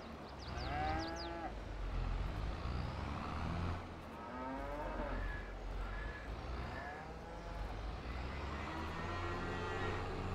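Cows mooing in the video game Farming Simulator 22, several drawn-out moos spaced a couple of seconds apart over a steady low farm background, fairly close and clear.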